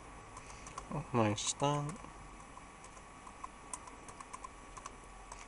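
Someone types on a computer keyboard, producing faint, scattered key clicks close by; a person speaks briefly over the early tapping.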